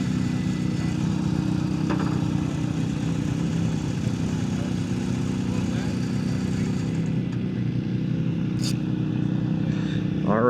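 Steady low engine rumble from an old BMW R18 motorcycle parked on a steep hill, running continuously at a mid idle throughout, with faint background sounds over it.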